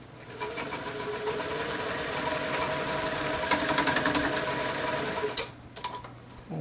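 A Janome New Home sewing machine stitches wool fitted with trim, giving a steady, close, rapid mechanical whir that runs continuously before briefly stopping and restarting near the end.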